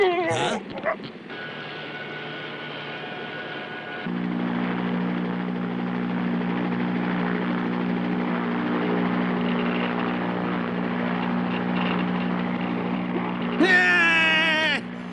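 A helicopter comes in to land, its rotor and engine settling into a loud, steady droning whir that runs for most of the span, with voices and a brief shout before it and a raised voice near the end.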